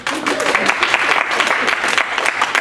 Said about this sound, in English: You can all applaud.